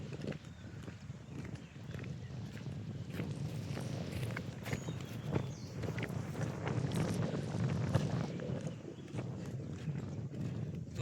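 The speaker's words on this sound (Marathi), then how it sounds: "वारा आहे भरपूर चालू आहे" Strong wind buffets the microphone in an open rice field during sowing, a continuous low rumbling roar with gusty surges and faint scattered rustles, no voices.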